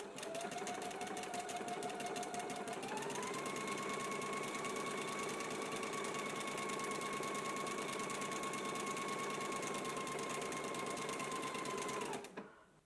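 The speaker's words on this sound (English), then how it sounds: "we can go to the sewing machine and go ahead and stitch on the buttonholes" A sewing machine stitching buttonholes runs steadily for about twelve seconds, a continuous mechanical whir with a rising pitch early on, then stops abruptly.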